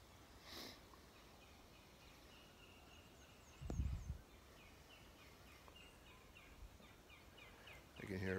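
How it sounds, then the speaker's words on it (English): Faint, distant bird calls drift in as thin repeated whistles from far off in a quiet outdoor setting, with a few nearby rustles and thumps close to the microphone. "I can hear a bird way up over there."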